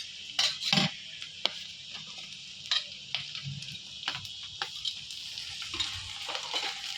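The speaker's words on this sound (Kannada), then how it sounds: "ಹಸಿಮೆಣಸಿನ್ಕಾಯಿ ಹಾಕ್ಕೊಂಡು ಇನ್ನೊಂದ್ಸತಿ ಚೆನ್ನಾಗಿ ಫ್ರೈ ಮಾಡೋಣ" Onions and green chillies frying in a pan, heard up close as a soft sizzle with scattered clinks and scrapes of a utensil stirring, alone without talk.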